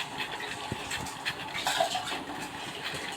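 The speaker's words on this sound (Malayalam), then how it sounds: "അപ്പോൾ നമുക്ക് അരി അങ്ങ് ഇട്ടേക്കാം" Washed rice tipped into a pot of heated water on the stove, a light clattering patter and watery splashing with faint metallic pot knocks over a few seconds.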